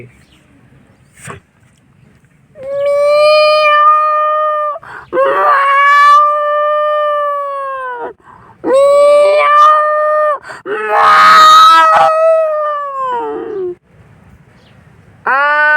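A man mimics a jungle cat's call with several long, drawn-out wailing yowls separated by short pauses, loud and close.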